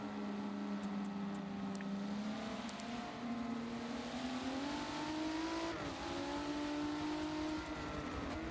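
Sim racing cars at Brands Hatch in a racing video game hold a steady engine drone that rises in pitch, with a gear shift partway through. Faint clicks come over the constant in-game engine tone.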